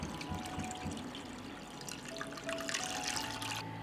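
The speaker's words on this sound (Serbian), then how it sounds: "Sipat ću vodu u šerpu do visine poklopca." Water pours into a cooking pot holding glass jars set on a cloth, a soft continuous trickle and splash close by, quiet and with no talking.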